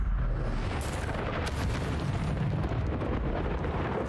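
Incendio fire spell cast in Hogwarts Legacy, heard as a loud, dense roar of flame that fills the whole stretch with a steady rumbling rush and no clear break.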